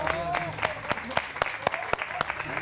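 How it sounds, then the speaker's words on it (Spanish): A studio audience on a Spanish television show bursts into strong applause, dense clapping with sharp individual claps standing out, close and sustained throughout. "¡Fuerte aplauso!"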